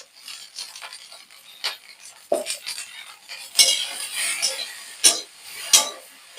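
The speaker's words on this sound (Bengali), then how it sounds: "এবার নেড়ে চেড়ে ভেজে নেব।" Okra being stir-fried in a pan with salt and turmeric over medium heat: soft scraping, then several sharp metallic spatula clinks against the pan over a faint frying hiss, all close by.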